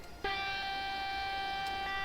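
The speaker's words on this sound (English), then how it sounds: "That's the horn." Sustained multi-tone train horn from a high-speed train in Train Simulator 2015, sounding loud and steady for nearly two seconds after a brief quieter lead-in.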